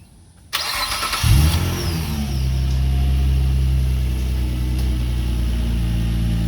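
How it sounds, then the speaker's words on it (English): A Nissan Maxima's engine cranks and starts after a quiet moment, catching with a brief rev and then settling into a steady, close, loud idle with no talking. "we're going to start the car"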